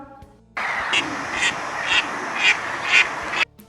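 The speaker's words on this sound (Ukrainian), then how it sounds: "а це в нас такий звук видає качка" A domestic duck quacks five times in an even rhythm, loud and near, over a steady noisy background.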